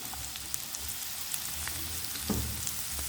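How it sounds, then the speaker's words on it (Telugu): Dry coconut, green chilli, ginger and garlic frying in a pan for a brinjal curry, a steady close sizzle with faint crackles and one brief louder clatter near the end. "అల్లం వెల్లుల్లి వేసుకొని వీటిని కూడా ఫ్రై చేసుకుందాము."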